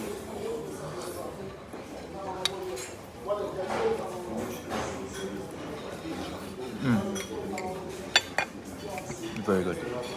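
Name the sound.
spoon mixing borscht with sour cream in bowl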